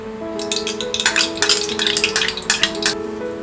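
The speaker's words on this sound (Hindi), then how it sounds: "कुकर में डालेंगे ये घी" Ghee is spooned into a pressure cooker on a gas stove for jowar pulao, with a series of close metallic clinks and scrapes over a faint background hum.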